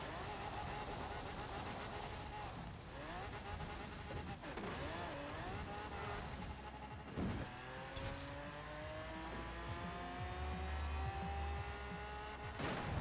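A drag-racing car in Forza Horizon 4 revs hard through second gear, its engine note climbing in long rising sweeps with tire noise, loud and close, and a voice speaks briefly over it.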